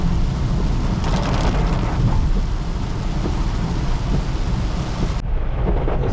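Heavy rain during a taxi drive in Kochi makes a loud, continuous roar of water and rushing air against the moving car, with low rumbling throughout and no one speaking.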